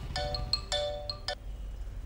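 A phone ringtone plays a short bright melody of chiming electronic notes over a low background hum, clear and close.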